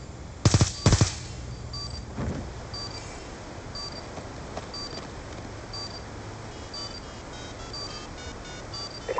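A planted bomb ticks during a Black Ops II Search and Destroy match: two loud gunfire bursts open the clip, then faint, evenly spaced beeping ticks repeat over a low background hum.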